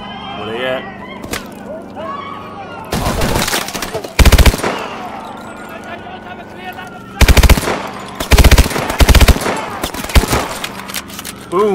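Gunfire in Call of Duty: Advanced Warfare, with several loud, close bursts of rapid automatic shots separated by gaps, mixed with game sounds and voices talking in between.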